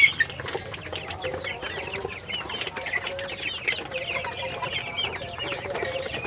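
Many quail call at once on a poultry farm in a dense, continuous chatter of short chirps and clucks, like a crowded pen, with no talking.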